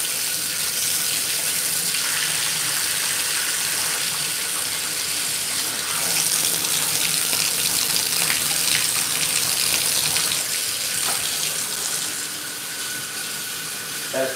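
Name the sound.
wall-mounted tub faucet running water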